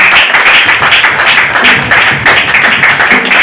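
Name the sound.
church congregation applauding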